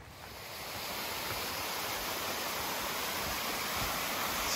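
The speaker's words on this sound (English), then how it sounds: "Cool little waterfall, not too far onto the trail." A small waterfall beside a mountain hiking trail near Sam Knob gives off a steady, even rush of falling water, constant and moderately close, with no voices over it.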